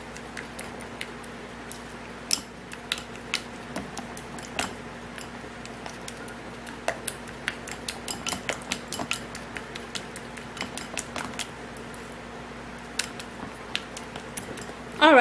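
A mixture being beaten in a bowl, with a steady run of small clicking and tapping strikes from the utensil against the bowl, close and fairly quiet throughout, with no speech.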